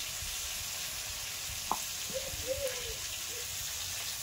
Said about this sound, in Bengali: তো মাছগুলো একটু ভাজা হতে থাকুক